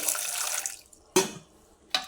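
A glass of water is poured into a cooking pot holding mint, crushed ginger, cinnamon and clove, a short splashing pour followed by two brief knocks of the vessel.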